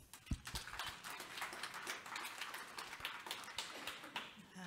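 Faint, distant clapping from a conference audience, a dense irregular patter of hands lasting a few seconds.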